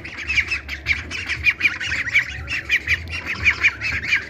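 Loud, rapid repeated squawks from a duck or goose carry on continuously in a steady rhythm, close by, with a low rumble underneath and no talking.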